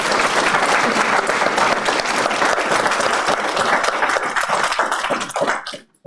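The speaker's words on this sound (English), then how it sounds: "So if we could give one more round of applause," Sustained applause from a graduation ceremony audience, dense steady clapping throughout the hall that tapers off and fades out near the end.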